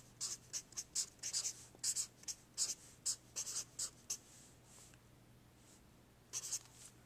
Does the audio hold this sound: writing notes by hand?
yes